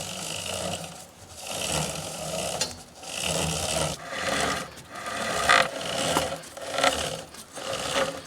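A chain drive sprocket is spun by hand while caked crud is scrubbed off, giving repeated rasping, scraping strokes in rhythmic bursts about a second long, close and fairly loud.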